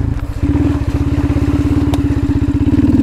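A Honda Grom motorcycle being ridden off road, its small single-cylinder engine chugging close and loud with a rapid, even pulsing that steadies after a brief lower start.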